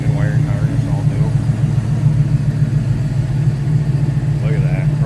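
A 1969 Pontiac Firebird coupe's V8 engine with chrome valve covers and an electric pusher fan idles smoothly, making a close, steady, even low hum without revving, while a voice speaks briefly over it.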